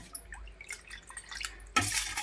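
Tamarind water poured from a bowl into pani for pani puri, with faint drips and trickles at first, then a louder, steady splashing pour near the end.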